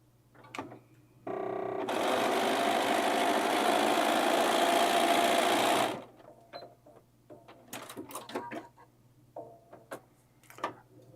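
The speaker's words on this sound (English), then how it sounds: "I just fed the fabric through, it butted up against that edge, and that top feed dog really helped pull those fabrics through" Sewing machine stitching two pieces of fabric together, running steadily for about four seconds with a short start burst, then stopping, followed by faint handling clicks and rustles.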